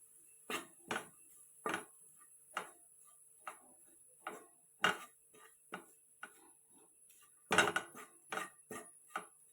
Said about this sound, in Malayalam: അതിലോട്ട് നേരത്തെ മാറ്റി വെച്ചിട്ടുള്ള മസാല കൂട്ട് ഇതിലോട്ട് ഇട്ട് കൊടുത്ത് കൂട്ടി ഇളക്കിയെടുക്കാം.